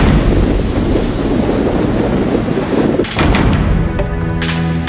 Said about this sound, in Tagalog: inabutan ang aming team ng malalaking alon